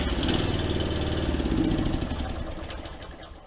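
A Honda 1332 snowblower engine, started with its key, chugs nearby in a loud, steady rumbling idle that slowly eases off toward the end, with no talking.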